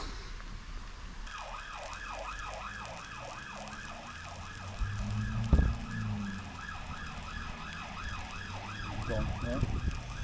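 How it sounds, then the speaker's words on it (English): A wailing siren rises and falls in a steady, repeating sweep, moderately distant, over rumbling outdoor background with a brief thump midway. "That was a siren."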